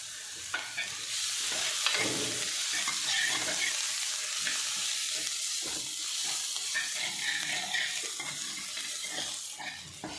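Grated ginger frying in a pan for a dal with spinach, a steady close sizzle with repeated scraping and stirring strokes throughout, no talking.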